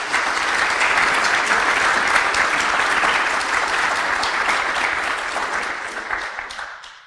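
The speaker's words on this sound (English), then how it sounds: "I would ask you to give a round of applause for all these volunteers" A packed audience at the MedMates EXPO 2017 welcome applauds its volunteers with steady, dense clapping that holds for several seconds, then thins and fades out near the end.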